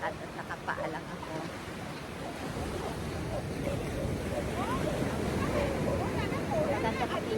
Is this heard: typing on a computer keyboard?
no